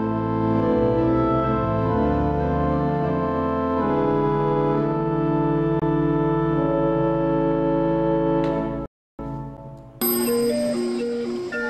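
Pipe organ extended with a Principal 8 stop, playing sustained chords with a bright principal tone, a brief cut of silence near the end, then a higher, brighter passage resumes.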